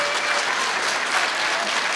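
An audience at a public lands debate applauds in steady, dense clapping that fills the room, with no pauses or voices breaking through.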